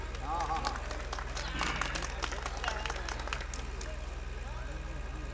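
An audience at a Hindi poetry recital with poet P K Dhutt claps, producing scattered, moderately faint handclaps mixed with crowd murmur and talking throughout.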